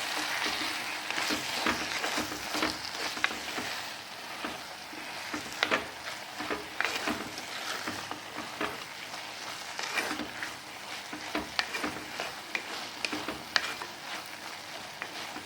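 Onion and tomato sauté with pepper in a pan over a medium flame, a dense continuous sizzle broken by frequent sharp clicks and scrapes of stirring.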